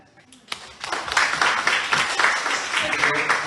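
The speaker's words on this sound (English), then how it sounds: "So let's applaud again." Audience applause in a university lecture hall in Taiwan, starting after a brief pause and building into steady, dense clapping that holds for several seconds.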